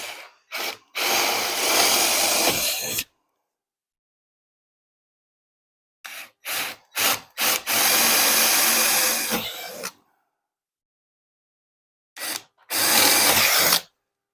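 Power drill with a 3/8 bit boring through metal wall sheeting in a shop build, loud whining bursts of a few seconds each, separated by brief taps and long pauses.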